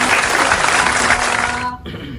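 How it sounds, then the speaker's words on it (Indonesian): Loud, dense clapping from a studio audience during a talk-show interview, a steady burst that cuts off abruptly near the end, leaving a brief quieter tail. "tepuk tangan"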